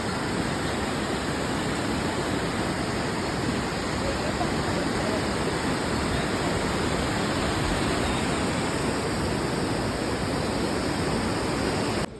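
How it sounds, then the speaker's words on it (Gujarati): Steady, broadband rushing of the Yamuna River flowing on the trek to Yamunotri, loud and continuous throughout with no talking. "ખાલી નદીનો અવાજ સાંભળો તમે."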